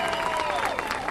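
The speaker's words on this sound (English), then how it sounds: "bring them back for your applause" A brief burst of crowd applause at a rally in Washington, DC, with dense clapping mixed with some murmur and voices.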